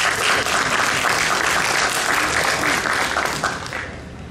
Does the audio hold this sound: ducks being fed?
no